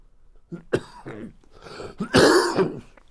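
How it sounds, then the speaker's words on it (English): Several harsh coughs and throat clearings close by, building to a louder, rougher cough near the end. "Excuse me for my cough."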